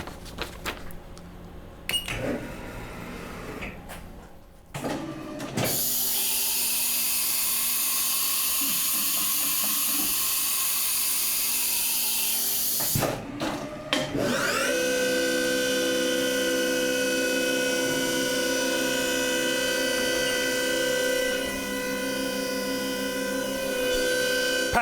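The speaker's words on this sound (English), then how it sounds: "picking up the 3/4 inch end mill and doing a facing operation" A CNC mill runs a facing pass with a 3/4 inch end mill, giving a steady mechanical whine with a bright cutting tone. It is interrupted by a pause, then returns as a sustained tonal hum.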